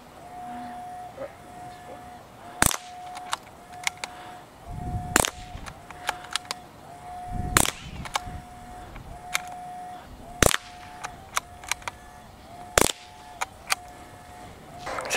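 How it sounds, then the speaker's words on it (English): Rapid gunshots fired at a Caldwell Target Turner, about a dozen sharp, loud cracks spaced irregularly across the stretch, with a steady high electronic beep pulsing underneath between shots. "we're going to go to the second attempt now, but we're going to shoot faster this time"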